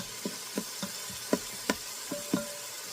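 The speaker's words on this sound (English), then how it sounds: "So you're going to saute your onions, stirring" Onions sauté in a pan for vegetable soup while a spoon stirs them, giving a steady sizzle broken by a series of soft, evenly spaced scraping knocks, close and fairly quiet.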